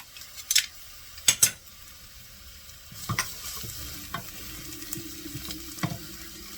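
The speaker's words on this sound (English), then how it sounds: "Garlic goes in. That's just gonna need a quick frying a little bit before I add my spices." Garlic sizzling in a hot pan with a few sharp stirring clatters and scrapes, close and fairly quiet, with a steady low hiss underneath.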